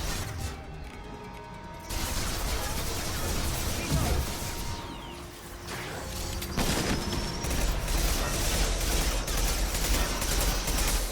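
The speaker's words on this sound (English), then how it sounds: "Firing an impact shot." Impact-shot gunfire in Mass Effect 2 from the Legendary Edition, with sharp bursts and crashing impacts over a dense, continuous combat din and a brief lull midway, then swelling again.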